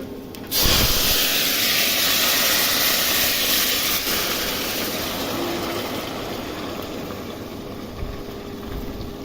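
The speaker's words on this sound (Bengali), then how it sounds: "গরম জল করে রাখছিলাম, গরম জলটা দিয়ে দিলাম।" Hot water poured into a pot of urad dal khichuri bursts into a loud, rushing hiss of steam that holds steady and slowly eases over several seconds, with no talking.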